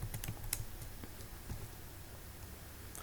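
A formula being typed into Microsoft Excel on a computer keyboard, light quick keystrokes clustered at the start, then sparser taps fading to near quiet.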